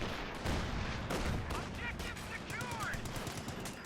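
Heavy machine gun fire from a .50 cal in a Company of Heroes 2 battle, a dense, loud stream of rapid shots over constant battlefield rumble, with brief tonal in-game voice or effect sounds mixed in.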